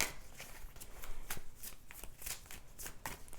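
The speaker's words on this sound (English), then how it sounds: "And I'm going to pull some cards now for the Hanged Man." Tarot cards shuffled by hand, giving a close, continuous riffling and sliding patter of card stock with no talking.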